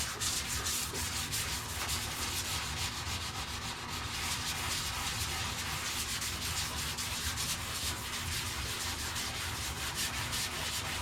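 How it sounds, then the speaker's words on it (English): An orbital sander works over resin-coated wood with a constant, close, loud abrasive hiss and a steady motor hum that runs through the whole stretch without a break. "I use the orbital to get the majority of it."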